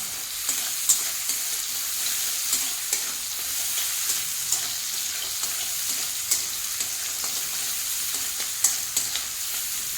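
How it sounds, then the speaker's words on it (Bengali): Chopped onions with green chillies frying in oil and being stirred in a pan: a continuous sizzle punctuated by regular scraping spoon strokes, close and steady, with no voices. "পেঁয়াজটাকে এই একটু লাল লাল করে ভেজে নেব।"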